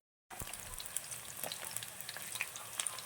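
After a brief silence, green chillies, garlic and shallots drop into hot oil with popped fenugreek and fennel, breaking into a close, steady crackling sizzle with scattered sharp pops.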